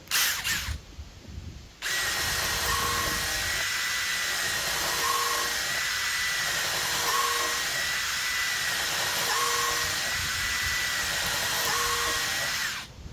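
A Milwaukee or DeWalt 12V drill runs steadily in drill mode at speed 2 on a full battery, a continuous close whine sustained for about eleven seconds after a brief pause near the start.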